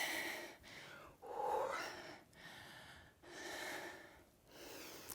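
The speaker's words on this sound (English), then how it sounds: "Catching your breath here." Heavy panting after a HIIT workout with stability ball and medium weights, several loud breath cycles in and out with short pauses between, close and alone.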